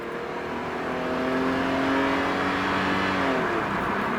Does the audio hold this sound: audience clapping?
no